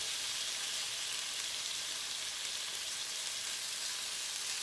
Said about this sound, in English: we're going to add in our beef right away